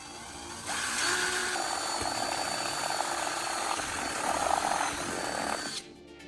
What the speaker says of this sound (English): I will drill an additional hole in the signal collecting dish